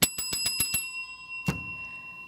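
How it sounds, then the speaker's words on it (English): A bell rung as a two-minute warning on a live show: a quick run of six bright metallic rings, then a single louder strike after a short pause that rings out and decays. "we just heard the Sin City bell. That's our 2-minute warning"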